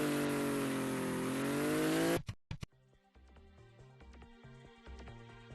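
A drag race car in a racing game revs loudly in first gear, holding a steady high engine drone before launching. The engine cuts off abruptly, and quieter tonal sounds follow.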